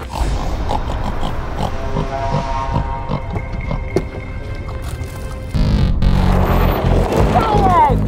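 A cartoon pig snorts and grunts in an animated scene, its close, rough noises mixed with character voices and a louder, busier stretch of sound toward the end.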